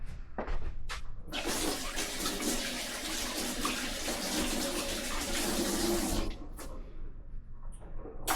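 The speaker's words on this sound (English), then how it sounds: "Rinse my hands off real quick." Tap water runs steadily for about six seconds while hands are rinsed in a kitchen during chicken preparation, a loud, close, broad splashing hiss that starts abruptly and cuts off, with a few clunks around it.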